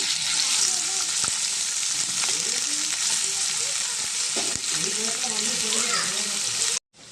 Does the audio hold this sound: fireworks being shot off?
no